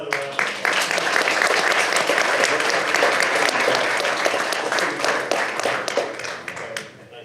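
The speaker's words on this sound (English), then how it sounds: "Give them another round of applause." A city council meeting audience applauds visiting wrestlers with sustained, loud crowd clapping that holds steady for several seconds and then tapers off, with faint voices mixed underneath.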